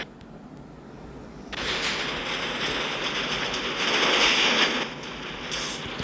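A train passes nearby, its broad rumbling roar swelling abruptly out of quiet, holding strong for several seconds, then easing slightly at the end.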